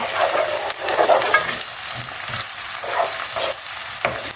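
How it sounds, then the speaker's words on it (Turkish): Tomato paste fries in a pan as stuffing filling for stuffed grape leaves is prepared, a close, steady hiss of sizzling with repeated scraping stirs throughout and no one speaking. "bir iki yemek kaşığı salça koyuyorum ve bunu da güzelce kavuruyorum."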